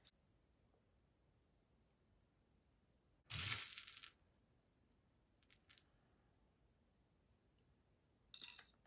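Clear crushed filler glass for glitter art poured in two short bursts, a loud gritty rattling pour of nearly a second followed by a fainter clink and a second brief spill, with quiet gaps between.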